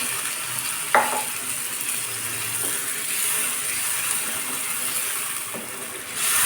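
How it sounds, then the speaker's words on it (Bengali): Pre-boiled chickpeas fry in a pan as water is poured in, giving a steady close sizzle with a sharp burst near the start and a few stirring clicks, no talking. "আমি সামান্য পানি অ্যাড করে দিচ্ছি"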